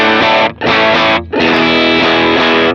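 Distorted electric guitar run through a Line 6 Helix patch with a mid boost, playing three loud chord hits with brief gaps between them, the last one held and ringing, no voices.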